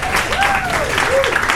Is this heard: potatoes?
no